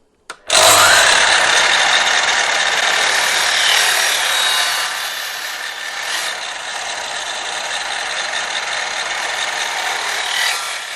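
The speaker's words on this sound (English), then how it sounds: "you can actually see the line that the saw is going to cut" A battery-powered variable-speed saw whines loudly and continuously as it cuts through wood, the motor pitch holding steady with slight dips under load.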